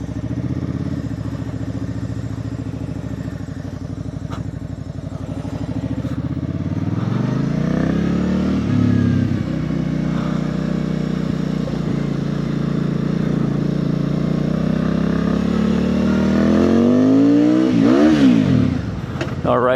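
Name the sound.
Benda 707 motorcycle accelerating in first gear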